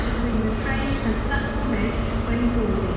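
Intercity Express Train from London Paddington pulling into platform 6 at Exeter St David's, a steady low rumble with faint wheel squeals over station ambience, with a faint voice in the background.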